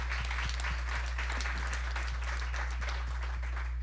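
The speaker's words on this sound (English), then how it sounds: "I give them a round of applause." An audience at an evening sustainability careers panel applauds its four panelists, a steady wash of clapping throughout over a constant low electrical hum.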